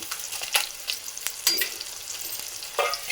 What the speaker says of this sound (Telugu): శనగపప్పు, ఆవాలు, మెంతులు అంతా అదే నూనెలో వేస్తున్నాను.